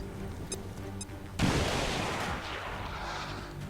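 A frag grenade goes off in the XCOM 2 video game: two short beeps, then a sudden loud boom that rolls into a long rumbling, crackling decay.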